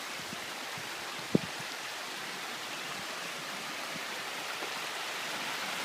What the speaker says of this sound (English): It's known as Indian Falls